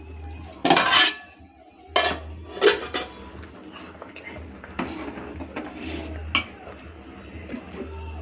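Boiled eggs scooped from a pot with a masher, metal scraping and clanking against the pot in several loud close bursts, with a person talking in between.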